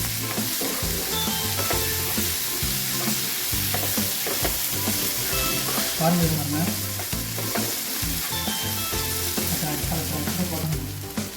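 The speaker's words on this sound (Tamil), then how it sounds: "அதை லேசாக மேலே தூவிட்டு அப்படி ஒரு பரட்டு பட்டு எடுத்தால் சூப்பரான சூப்பராக வறுவல் ரெடி" Mutton chukka (dry-fried mutton varuval) being stir-fried in a pan, a steady loud sizzle with repeated scraping and stirring strokes throughout, no voices.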